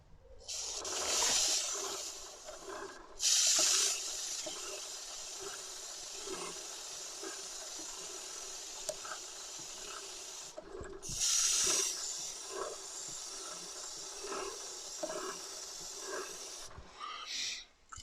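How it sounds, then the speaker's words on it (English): Chain wax lube sprayed onto a spinning motorcycle chain: four loud, sharp hissing aerosol bursts of one to two seconds each, with quieter mechanical whirring from the turning chain between them. "just make sure you keep the chain spinning so that you get an even coat of wax all the way around"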